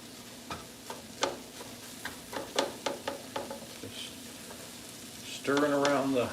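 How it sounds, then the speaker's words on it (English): Ground beef mixture is stirred in a frying pan over a low sizzle, with a run of sharp spoon taps and scrapes against the pan and a brief voice near the end. "Stirring around the ground beef mixture here."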